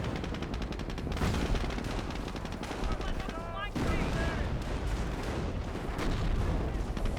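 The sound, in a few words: sector artillery barrage in Company of Heroes video game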